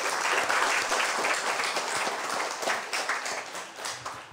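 Audience applause at a church youth meeting, a steady, dense wash of many hands clapping that holds for several seconds at close to medium distance and eases slightly toward the end.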